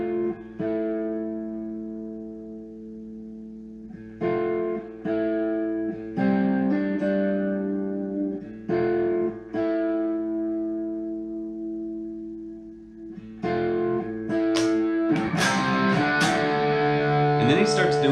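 Electric guitar playing an intro of ringing distorted chords that builds into a driving rock riff, loud and close, getting denser and grittier toward the end.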